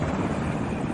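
Helicopter from the war film Black Hawk Down, a loud, steady roar of rotor and engine filling the whole second before cutting off abruptly at the end.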